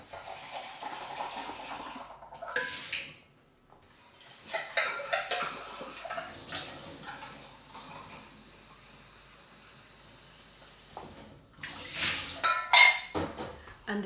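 Kitchen sink noise as a frosting tool is rinsed under running water, with clattering dishes and utensil knocks, a broad splashing wash that drops out briefly and returns louder near the end.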